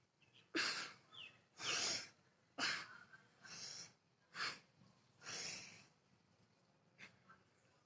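A person demonstrates breathing in and holding breath, giving a series of loud close sharp inhalations and exhalations in an uneven rhythm, separated by brief quiet pauses.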